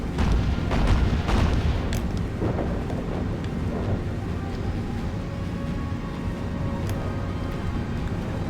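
Naval gunfire and shell impacts in the Battlestations Pacific game during the Battle of Cape Esperance, a dense continuous barrage of deep booms and rumbling blasts with a few sharper cracks, loud throughout.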